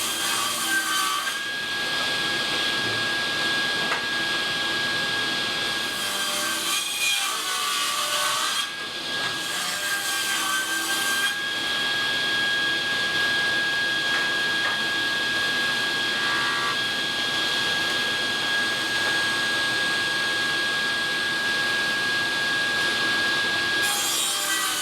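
Saw trimming the edges of scrap wood offcuts for a garden table, a continuous loud rasping cut with a steady high whine, pausing briefly a few times before resuming.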